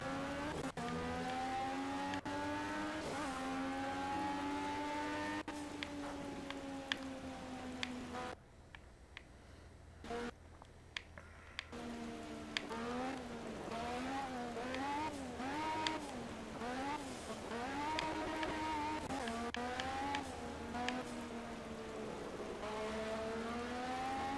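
A race car in the Project Cars video game on Xbox One drives with a continuous engine whine that rises and falls through gear changes and revving, with one short quiet gap midway.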